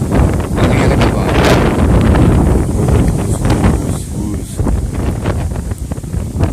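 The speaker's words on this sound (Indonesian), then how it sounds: "Anginnya kencang banget." Strong gusting wind buffets the microphone at the Merapi volcano viewpoint in Kaliurang, Sleman, Yogyakarta, a loud continuous roar with surging bursts through the whole stretch.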